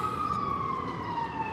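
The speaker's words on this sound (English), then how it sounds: "these sirens, so many sirens" An emergency vehicle siren wails steadily in the distance, a single sustained descending tone over low traffic rumble, with no voices.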